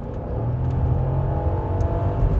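A BMW X5 V8 engine revs smoothly and steadily at close range, a continuous mid-pitched drone with no talking.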